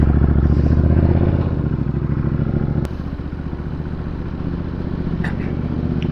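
A Triumph Bonneville Bobber fitted with a bigger, louder exhaust idles close by with a deep, loud, pulsing burble that dips slightly partway through and then carries on steadily.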